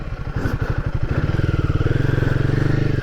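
A Royal Enfield Guerrilla 450 motorcycle thumps along at low speed while turning, its single-cylinder exhaust pulsing in a rapid, even beat, close and fairly loud with no talk.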